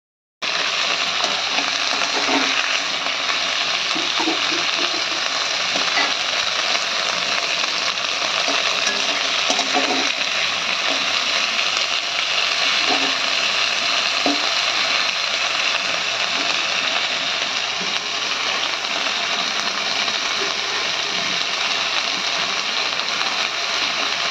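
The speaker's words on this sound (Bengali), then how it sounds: "তো তরুলিগুলোকে ভালোভাবে ভেজে নেওয়া হচ্ছে।" Pieces of taruli (pointed gourd) frying in a pan in a home kitchen, giving a steady, dense sizzle that runs loud and unbroken throughout, with faint clinks of stirring now and then.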